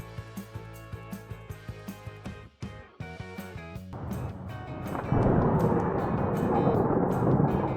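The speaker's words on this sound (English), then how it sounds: "A terrifying lightning strike." Thunder from a nearby lightning strike: after a stretch of regular ticking and a sharp crack, a loud, sustained rumbling roar swells and holds to the end.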